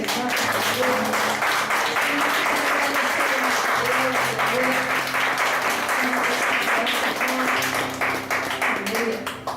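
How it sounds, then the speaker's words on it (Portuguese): A Baptist church congregation at a home service applauds in a long, steady roll of hand clapping, loud and sustained, with a low held tone and voices running underneath. "Aplauda mais uma vez o Senhor."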